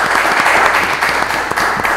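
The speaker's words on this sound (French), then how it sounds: "Bienvenue Mike, merci de l'applaudir." A crowd at a student presentation event in Lubumbashi applauds steadily, the dense clapping loud and close and continuing with no pause.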